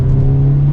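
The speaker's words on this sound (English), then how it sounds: "We even have the upgraded exhaust to give you those pops" Upgraded active exhaust on a 2023 Hyundai Elantra N, a steady close-up droning rumble with a faint whir on top, brief and loud with no talking.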